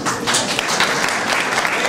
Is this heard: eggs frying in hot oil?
no